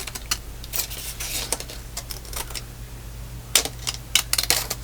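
Scissors snipping through cut-apart paper for an altered book craft, a quiet series of short crisp clicks and rasps, irregular and close, with a louder cluster of snips near the end.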